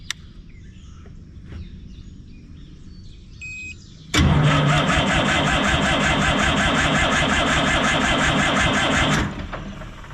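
A John Deere diesel crawler loader engine cranks over loudly and steadily for about five seconds, a dense rhythmic churning that starts abruptly and then cuts off, after quieter ambient sounds and faint chirps.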